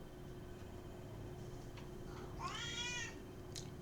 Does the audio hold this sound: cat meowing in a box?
yes